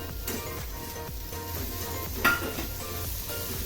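Finely chopped potatoes hit hot oil with a ground peanut and chilli masala, a continuous sizzle with stirring scrapes and one sharp utensil clink partway through.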